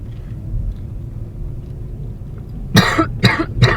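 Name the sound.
cough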